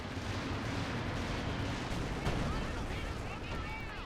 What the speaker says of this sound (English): Right now, infantry section launching artillery.